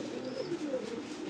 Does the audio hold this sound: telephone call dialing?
no